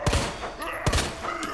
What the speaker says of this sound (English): Let's just use the Albert gun here.